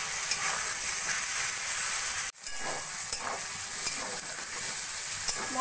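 Spices sizzling in hot oil with grated ginger and Kashmiri chili powder for a vegetarian turnip curry, a steady bright frying hiss with soft stirring scrapes, briefly cut off midway then resuming, no voices.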